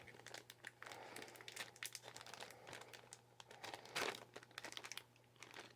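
Plastic packaging around a roll of double-sided tape is handled up close, crinkling and crackling in quick, irregular bursts with a sharper rustle midway.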